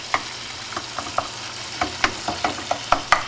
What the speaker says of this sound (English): So I'm going to just chop it all up with my spoon, stir it up